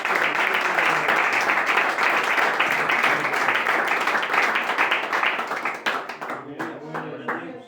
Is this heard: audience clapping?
yes